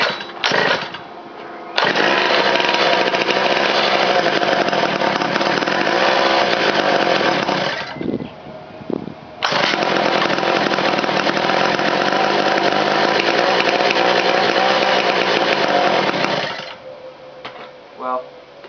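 A cold two-stroke engine on a motorized bike fires up and runs in loud, raspy bursts, cutting out and restarting with short gaps between runs, close to the listener.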